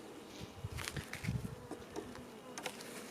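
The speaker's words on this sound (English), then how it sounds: "just one frame of bees up top here." Honey bees buzz in a weak hive during an inspection, a dense, faint droning hum with soft bumps and flutters, close by and with no voices.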